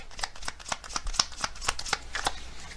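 A card deck is shuffled up close during a card reading, with rapid riffling and flicking as the cards slap together in quick irregular bursts and no voice over them.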